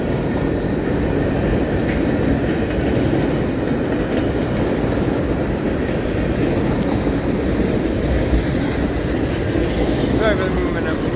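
A long freight train of coal cars rolls past close by, a loud, continuous dense rumble with steady clickety-clack of wheels and no break throughout.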